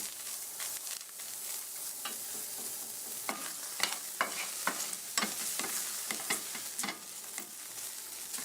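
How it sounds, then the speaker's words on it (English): Onions dry-sautéing in a pan over medium-high heat for a plant-based gravy: a soft, steady crackle with sharp clicks and scrapes of stirring scattered through, fairly quiet and close, no voices. "To start, dry saute the onions over medium-high heat."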